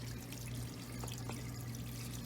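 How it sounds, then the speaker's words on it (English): Water pours steadily out of an uncapped drain behind a flipped house in Goodyear, Arizona, fed by a sink running indoors: a faint, continuous splashing flow over a low steady hum. "it's just pouring out water because the sink's on inside the house"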